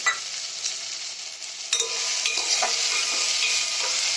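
Chopped cucumber and turmeric fry in a pot for a mung dal khichdi, giving a steady close sizzle broken by a few spoon scrapes and knocks against the metal.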